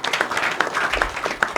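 An audience in a Nigerian public gathering breaks into brief applause, a burst of overlapping claps at moderate distance with a few sharper individual hand claps standing out.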